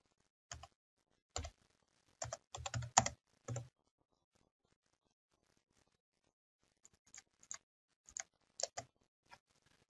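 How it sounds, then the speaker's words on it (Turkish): Someone typing a CNC lathe program on a computer keyboard, bursts of crisp key clicks in short clusters separated by pauses, close and fairly quiet, with no talk. "Ben bu arada klavyeden yazıyorum."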